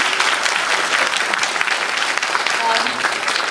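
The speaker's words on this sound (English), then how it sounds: "A round of applause for Mr." A graduation ceremony crowd breaks into sustained applause for a class representative, dense, even clapping from many hands that stays loud and full throughout without letting up.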